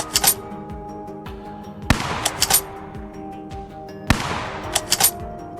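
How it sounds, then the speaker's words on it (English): Three sharp bursts of gunfire ring out at even intervals during a wild boar hunt, each a loud crack followed by a quick rattle of shots and a fading echo. "A precise volley of gunfire left the entire group no time to react."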